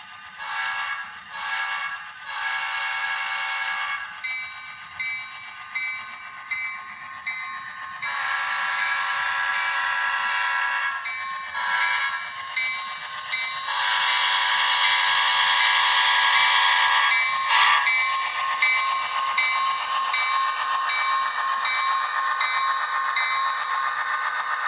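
A Bachmann HO-scale EMD F7 diesel locomotive in Pennsylvania livery, fitted with Soundtraxx DCC sound, sounds its horn in several short blasts and then longer, louder sustained chords over a faint idling rumble, close and clear with no talking.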